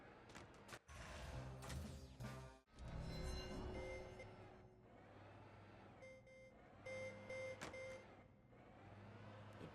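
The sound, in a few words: vehicle reversing beeps in Dead Rising video game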